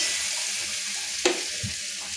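Onion, garlic, cumin, dried red chilli and spice paste frying in a pan, giving a continuous close hiss with a single sharp utensil scrape midway, no talk.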